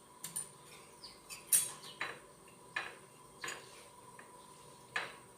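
A spoon mixes ground ginger and cumin in a dish: faint, scattered metallic clinks and taps against the bowl at an irregular pace, quiet and close, with no voices.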